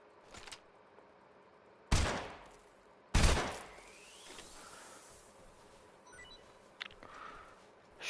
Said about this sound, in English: Shooting rats.